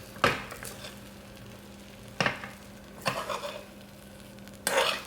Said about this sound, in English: moving this egg mixture from the sides into the centre and then filling the void